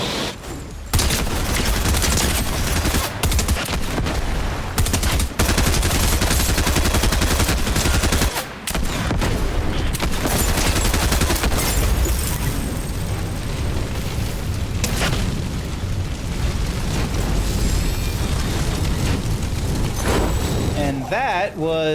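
Rapid video-game gunfire and bursts of automatic fire blaze almost nonstop with booms mixed in, loud and dense, while a player talks over the action.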